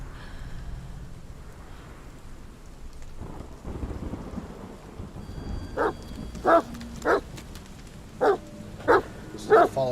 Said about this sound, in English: Follow the dog.